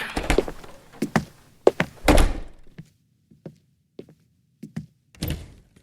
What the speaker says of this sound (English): Oh. The door.